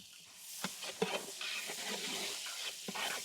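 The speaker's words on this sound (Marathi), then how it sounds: "आता बारीक चॉप केलेले कांदे घालून घेऊ" Finely chopped onions sizzle in a pan with cinnamon, bay leaf, black pepper, cloves and cardamom, a steady frying hiss broken by a few stirring scrapes and taps.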